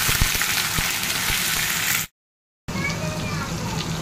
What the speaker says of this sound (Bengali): দিয়ে সমস্ত সবজিগুলোকে ভাজতে হবে।